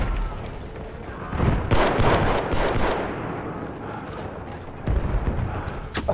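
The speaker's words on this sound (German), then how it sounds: "euer Panzer wird jetzt gerade von der Seite mega bombardiert." Heavy gunfire pounds a tank in a Battlefield 1 multiplayer match, a loud, continuous clatter of shots and volleys that swells and ebbs over a dense battlefield roar.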